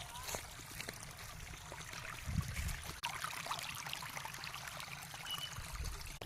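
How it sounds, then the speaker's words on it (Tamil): Water trickles and flows to a plant in a village garden, a faint, steady stream with occasional low bumps and a voice faintly present. "அந்த செடிக்கு தண்ணி போயிட்டுருக்கு"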